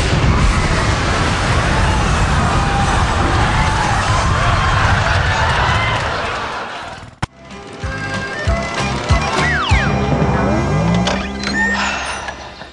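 A homemade cloud-seeding cannon goes off: roaring, sputtering bursts and dense noise for several seconds, then a sharp cut and a sudden bang, followed by clattering, whistling debris and scattered noises.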